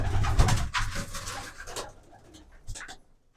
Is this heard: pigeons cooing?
yes